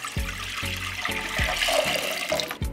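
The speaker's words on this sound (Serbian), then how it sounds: "Za to mi je potrebno litar vode koju ću sipati u jednu šerpu" Water pours steadily into a cooking pot with a rushing splash, broken by a rhythmic series of low glugging pulses.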